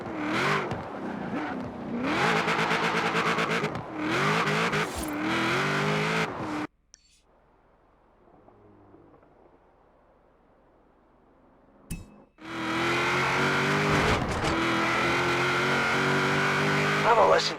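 A classic car's engine accelerates hard in the racing video game Forza Horizon 4, roaring through rising gear pulls, cutting to near-silence midway, then returning loud and sustained.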